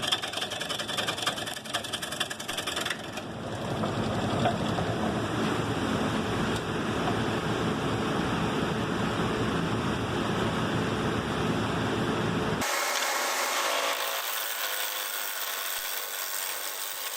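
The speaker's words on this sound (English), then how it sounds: "I'm roughing the piece out with a carbide chisel that I made until I get it round" A carbide chisel roughs out a spalted ash bowl on a woodturning lathe, giving a continuous scraping, grinding cut over the lathe's hum, loud and close, with the tone shifting sharply near the end.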